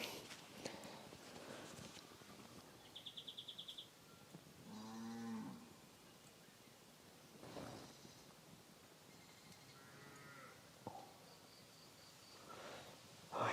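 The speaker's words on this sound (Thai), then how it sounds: "ส่วนแม่วัวกับลูกวัวคู่นั้นเนี่ยร้องไม่หยุดเลยนะครับ" A cow and her calf moo in a forest, several drawn-out low calls at moderate distance separated by quiet stretches, with faint rustling and a few higher tonal chirps around them.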